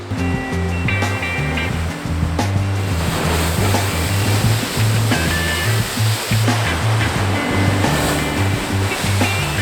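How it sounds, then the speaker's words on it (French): Surf churns and crashes against blowhole rocks on Réunion Island in a loud continuous wash, with a low droning hum running underneath throughout. "c'est la vague qui va venir taper contre le rocher et puis faire des petites vagues"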